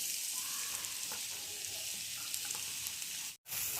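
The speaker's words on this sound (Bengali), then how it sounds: "এটা ঘিয়ে বেশ অনেকক্ষণ আমি এটা ভেজে নিয়েছি" Grated carrots frying in ghee in a pan, a soft continuous sizzle with faint crackles, briefly cut off near the end before resuming.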